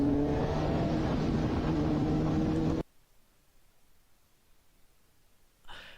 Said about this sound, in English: Van tries a dangerous pass on biker.